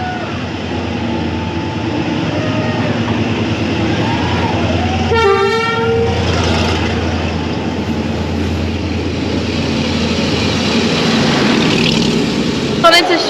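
A train passes through Train Street in Hanoi, its horn sounding briefly in a clear toot partway through over a steady rumble of the rolling carriages and street noise.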